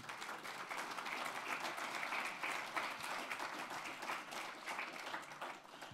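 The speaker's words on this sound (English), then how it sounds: "You may want to clap then." Audience applause at a ministers' gathering, steady and continuous for the whole stretch, moderately distant and soft, with no talk over it.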